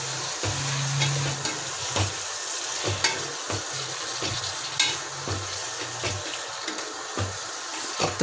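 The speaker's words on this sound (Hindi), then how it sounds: "तकरीबन जो 10 मिनट जो है हम वो चिकन को भूनेंगे इसमें।" About a kilogram of chicken being fried in a pot for biryani, with a steady sizzle broken by scraping and stirring clatters at irregular intervals, close and fairly loud.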